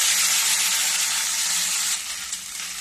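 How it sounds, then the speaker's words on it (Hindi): Ginger-garlic paste frying in a pan, a steady loud sizzle that runs unbroken and eases slightly near the end, with no talk. "अब इसको भी मैं थोड़ी देर भूनूंगी।"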